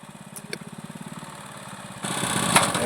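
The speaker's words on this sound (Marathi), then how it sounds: "चला आमचं बांधून पर्यंत कसं मशीन आलं पहा असं कापित आहे" A paddy harvesting machine cuts a rice crop in a village field, its engine chugging steadily and rhythmically close by, then growing louder and rougher partway through, with no talk.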